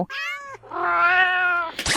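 A cartoon cat in the Roblox game Adopt a Cute Cat gives a short meow and then a longer drawn-out meow, clear, loud and close, with no talking.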